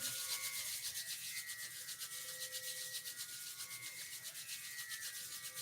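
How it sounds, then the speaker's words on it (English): Hands rub together briskly during a yoga session, making a close, steady rapid swishing friction with a regular back-and-forth pulse that lasts throughout, with no talking. "Rub your hands briskly."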